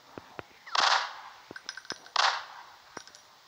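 Gunfire from a machine gun in a ghost shooting video game: two loud bursts of rapid shots, each about half a second long, spaced a second apart, with scattered sharp clicks and clanks between them.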